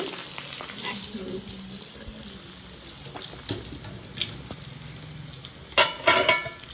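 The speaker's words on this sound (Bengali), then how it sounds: "এদিকে ভাজা চলছে পাঁচ রকম ভাজার মধ্যে ওই এখনও সদ্য পটল আর আলু ভাজা আছে মাছ ভাজা আছে" Pointed gourd, potato and fish frying in a pan, with a steady crackling sizzle, occasional stirring clatter and a few sharper spattering bursts near the end.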